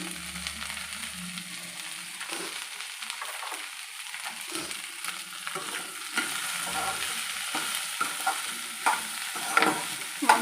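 Okra frying in a pan with turmeric, a steady close sizzle running throughout, broken by scraping stirs that grow louder and sharper toward the end.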